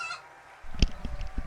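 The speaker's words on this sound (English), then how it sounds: "But we've got a couple of chicken noises as well." Chicken clucking and squawking sound effects play from a soundboard during a live game stream, in short bursts over a low background hum.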